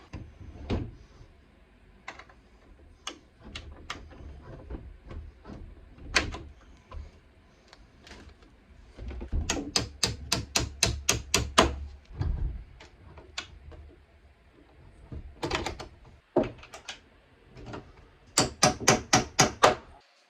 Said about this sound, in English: So now when we go to put it back on, it's going to be a little bit easier because we can do it with the door open